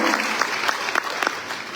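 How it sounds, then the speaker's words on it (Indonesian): Church congregation applauding during a sermon, a steady dense wash of many hands clapping with a few sharper claps standing out, continuous and fairly close throughout. "ya tepuk tangan"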